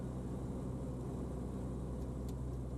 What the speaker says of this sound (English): In this case, I just didn't feel I liked my approach, so I just aborted this landing.